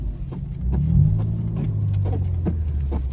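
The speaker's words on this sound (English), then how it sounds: "I'm like barely giving it any gas and it's just spinning." A BMW M4 engine drones low and steady as its wheels spin on snow, a close throbbing rumble that swells slightly and holds for a few seconds.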